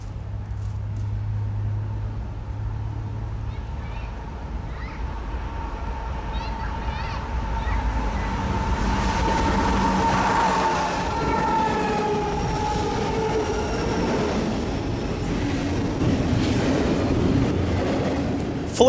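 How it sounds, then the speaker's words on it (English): A BNSF intermodal freight train rounds a curve at Fullerton on the San Bernardino subdivision, its steady rumble and rolling rail noise building and holding loud through the pass, with faint tonal squeals and a voice talking over it. "Immediately after rounding the curve, a BNSF intermodal train appears."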